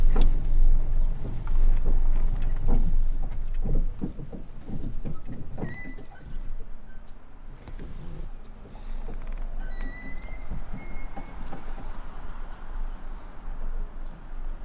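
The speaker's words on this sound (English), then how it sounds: "Pull it out and then you just rev the heck out of it till it starts" A small carbureted engine with a pull-out choke rumbles loudly and steadily nearby, its note rising and falling as it is revved to keep it running.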